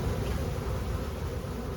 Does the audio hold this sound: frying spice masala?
no